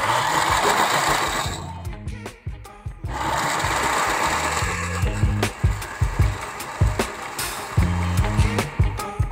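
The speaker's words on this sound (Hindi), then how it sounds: "हम अब इसको ब्लेंड करेंगे" A kitchen blender whirs loudly as it blends falsa (phalsa) fruit for juice, a steady motor drone that briefly stops and then restarts, running close by with no talk over it.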